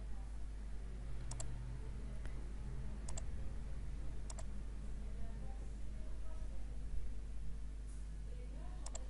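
Sharp, sparse mouse clicks, a few single and double clicks spread across the stretch, over a steady low hum and faint background noise from a computer at work in translation software.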